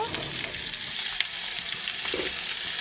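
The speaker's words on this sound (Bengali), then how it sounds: "ডাঁটা আর আলুটা দিয়ে ভালো করে আবার কষে নেব" Drumstick pieces and potato frying in a pan, a steady close sizzle with scattered small pops and scrapes throughout, no voices.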